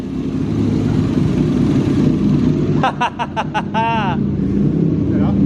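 Nissan Pulsar engine idles with a steady low drone, then briefly revs in neutral while voices shout and cheer over it.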